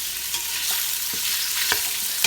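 Steady sizzling of smoked sausage frying in olive oil in a pot, a continuous hiss with a few light scrapes and clicks from stirring, close by.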